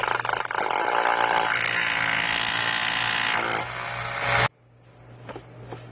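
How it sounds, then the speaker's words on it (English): A power drill drives masonry screws into a crawl space door frame. It whines loudly and steadily at close range for several seconds, then stops abruptly, leaving a few faint clicks and handling noises. "I ain't going to go ahead and shoot some mortar screws in the side of it"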